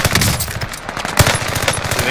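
Rapid automatic gunfire from an enemy team in a multiplayer video game, a loud steady rattle of shots with one sharper crack midway.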